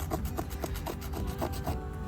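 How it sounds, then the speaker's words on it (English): A jagged-edged stone microlith flake saws back and forth through a piece of wood, giving a rhythmic rasping scrape of about seven strokes, close and clear with no talking. "sawing through like that."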